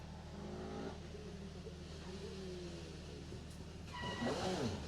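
A rally car on a Jersey Rally 2018 stage rounds a corner and heads uphill, its engine rising and falling faintly in the distance, then swelling louder near the end.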